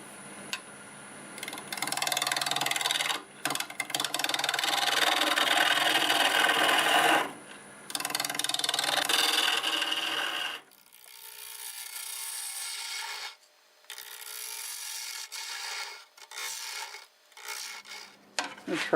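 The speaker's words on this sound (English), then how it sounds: "I got a 1/2 inch bowl gouge all sharpened up. And let's see what we can do for RPM. I'm going to start out at 1200." A wood lathe spins a burl bowl blank at about 1200 RPM while a sharpened 1/2 inch bowl gouge cuts into it, making a loud continuous scraping rasp. The rasp breaks off briefly midway, then returns as softer, intermittent cuts.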